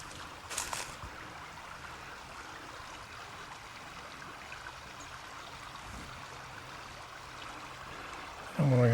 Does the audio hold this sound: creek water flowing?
yes